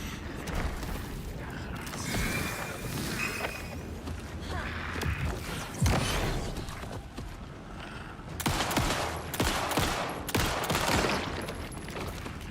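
Gunfire in the video game Alan Wake II, repeated shots and rattling mechanical clicks over a dense, continuous game soundscape of moderate loudness, with no clear talk.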